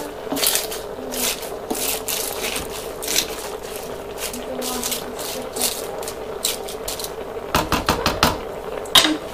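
Cabbage and smoked sausage stew being mixed in a pot gives close, irregular crunchy rustling and clattering scrapes, busier toward the end, with no voices.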